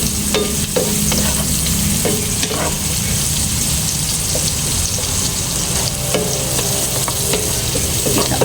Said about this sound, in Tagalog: Lutuin natin ang sibuyas sa butter